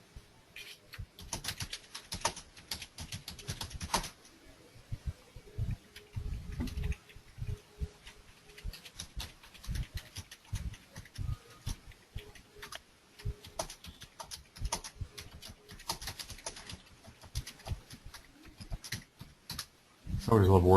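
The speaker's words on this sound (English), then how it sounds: "They bang on those keyboards so hard." Fast, irregular clatter of a computer keyboard being typed on hard, close and crisp, with people talking over part of it.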